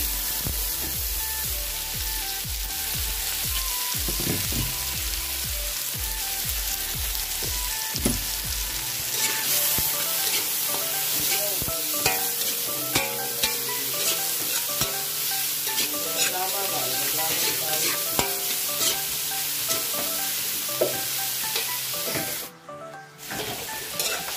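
Onion, tomato and ginger sauté in a pan for a sinigang dish, a loud continuous sizzle with steady stirring and scraping strokes, close up, and a brief drop near the end.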